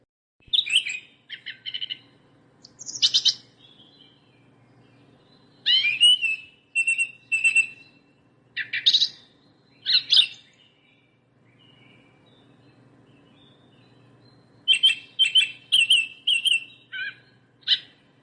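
A thrush sings clear, separate whistled phrases, each a short burst of varied notes followed by a pause. The phrases repeat through the recording, close and bright against a quiet background.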